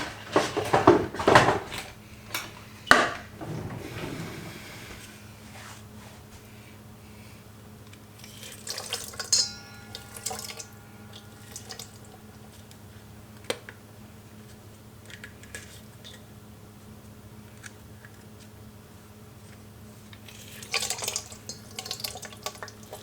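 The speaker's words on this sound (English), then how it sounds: "I need to wash and cut up this lemon." Running tap water splashes as a lemon is washed under a kitchen faucet, a loud gushing burst in the first few seconds, followed by quieter knocks, clinks and handling noises with long hushed gaps and no speech.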